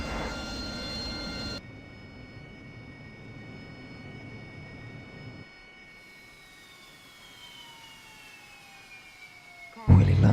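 Airplane engine in a flight simulator game: a steady drone with tonal whine that drops in level partway through, then thins to a fainter hum with slowly shifting pitch, ending in a brief loud burst.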